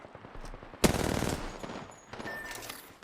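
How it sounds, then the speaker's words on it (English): Video game gunfire, a sudden close burst of rapid automatic shots lasting under a second, followed by quieter scattered shots and shuffling movement. "They spotted me. I'm taking shots."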